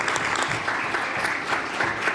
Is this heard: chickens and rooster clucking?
no